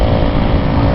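Moped engine droning while riding along a Vietnamese highway, a loud, steady, close-up rumble mixed with wind noise, continuous for the whole second with no talk.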